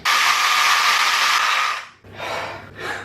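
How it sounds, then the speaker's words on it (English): A power drill mixing mead must, whirring in a long sustained burst, stopping, then two shorter spins, loud and close with no talking. "That's enough drilling."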